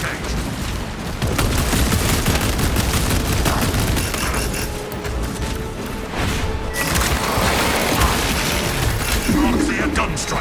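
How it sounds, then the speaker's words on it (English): Servo gun firing in the Warhammer 40K Space Marine video game, a dense continuous barrage of loud mechanical shots and impacts throughout, mixed with battle noise. "Servo gun engaged."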